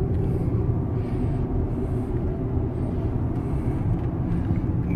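A Range Rover on the move, heard from inside as a steady low road and engine rumble that stays even throughout, with no talk.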